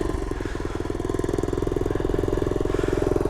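A 1970 Honda Trail 70 trail bike, 51 years old with a new carb and basic tune-up, starts on a kick and settles into a loud, steady, rapid idle that chugs evenly throughout, close by with no talk.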